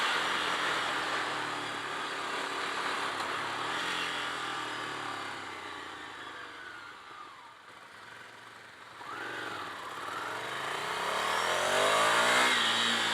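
A Ducati Scrambler Desert Sled motorcycle engine revs and accelerates on the road with wind rushing past. The pitch rises and falls through gear changes and the engine stays loud and close throughout.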